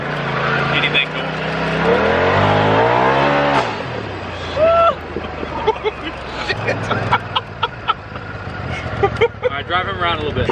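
A lifted truck drives across grass, its engine revving up in rising sweeps and then settling to a lower rumble, with people talking and calling out over it throughout.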